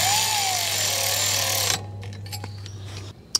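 A power tool zips new brake bolts, already coated in thread locker, into a 2010 Jeep Wrangler's front brake assembly during a pad, rotor and caliper job. There is a loud steady whirring run of about two seconds, then it stops and light clicks and handling noises follow.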